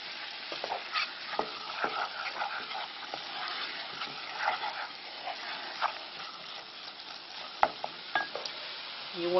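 Plain flour cooks in a pan as the base for curried sausages, giving a soft, low frying sizzle broken by scattered scrapes and taps of stirring.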